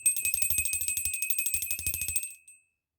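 A small bell rings in a rapid, continuous trill for about two seconds during a children's game, then stops, with nothing else heard.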